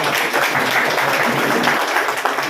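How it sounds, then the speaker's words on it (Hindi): A loud, dense burst of audience applause at a village felicitation event for a newly formed panchayat, steady clapping throughout with no voices on top. "फिर से चाहूंगा एक बार जोरदार तालियों के साथ।"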